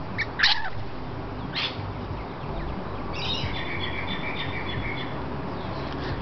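Rainbow lorikeet chirping while it eats, a few sharp high chirps early on, then a longer run of thin chattering calls, close and moderately loud over a steady background hiss.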